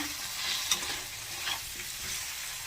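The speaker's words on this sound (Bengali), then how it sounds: "নেড়ে নেব।" A spatula stirs a vegetarian winter cabbage dish frying in a pan, with a steady close sizzle and soft scraping strokes throughout.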